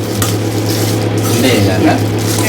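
Loud, close pan noise with continuous sizzling and scraping stirs, plus a steady low hum underneath; no speech.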